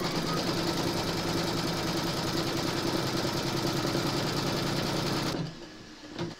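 A loud, steady whir comes from an embroidery machine stitching a placement outline for quilt batting on a remembrance quilt panel. It runs continuously before cutting off abruptly, followed by a few quieter handling sounds.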